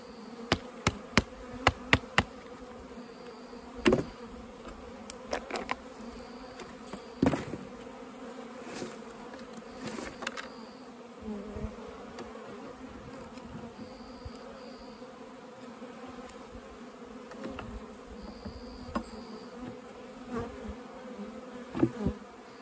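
Bees buzzing steadily around an open beehive while it is worked and cleaned, a close, continuous drone with scattered sharper clicks and knocks from the hive equipment, no talking.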